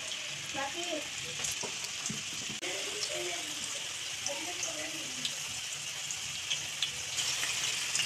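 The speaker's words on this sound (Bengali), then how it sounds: "ম্যারিনেট করা চিকেনগুলো সবগুলো এইরকমভাবে ভেজে নেব।" Marinated chicken pieces for hotel-style chilli chicken fry in hot oil with a steady, close crackling sizzle throughout, while a faint voice murmurs in the background.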